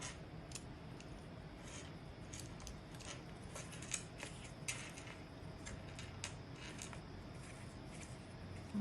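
Scissors trimming leftover paper scraps while making mini notebooks, giving soft irregular snips and crisp clicks at close range over a steady background hiss, with a couple of sharper cuts standing out.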